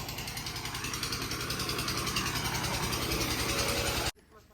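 A generator engine running at a farmhouse, a loud, steady close drone with a regular pulsing rhythm that cuts off abruptly near the end as it is switched off.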